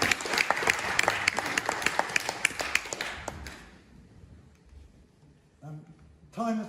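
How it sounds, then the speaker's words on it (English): An audience at an evening talk claps briefly in a lively burst that fades out after a few seconds, followed by near quiet and then a speaking voice. "you deserve a round of applause"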